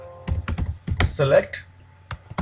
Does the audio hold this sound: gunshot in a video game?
no